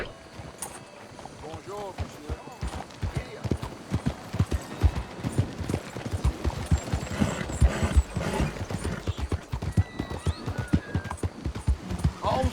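A horse gallops in Red Dead Redemption 2 with a steady, close clip-clop of hooves, a brief whinny, and rattling tack, while people talk over it.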